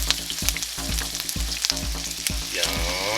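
Pork tenderloin sears in a hot pan with a loud, steady close sizzle and scattered spitting pops, continuous and without talking.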